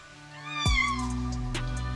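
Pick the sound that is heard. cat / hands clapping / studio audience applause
cat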